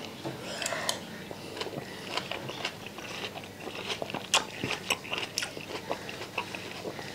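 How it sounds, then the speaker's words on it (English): Crunchy bites and chewing of homemade fruit chaat with walnuts and double cream, a steady run of close crisp crunches with faint voices underneath. "Then you get the crunch of them walnuts as well."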